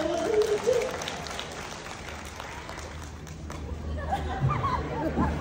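Audience applause at a Department of Education leadership talk in the Philippines, a moderate burst of clapping mixed with crowd chatter and voices, swelling again toward the end.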